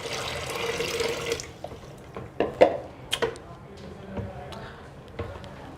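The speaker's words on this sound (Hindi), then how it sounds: "अब आपने जो पानी गर्म किया है और उसके अंदर जो 3 पाउचेस डाले हैं, वो पानी इसके अंदर डाल दीजिएगा।" Hot water mixed with cleaning pouches is poured into a Kangen water machine, a short gurgling pour that gives way to scattered drips, knocks and handling clatter, fairly quiet and close.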